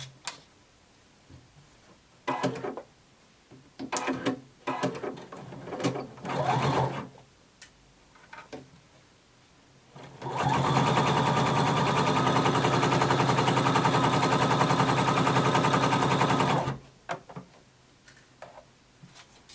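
A sewing machine stitches a bodice side seam, opening with a few short bursts and clicks, then one sustained, even run of rapid stitching for about six seconds, close up, before stopping with a few final ticks.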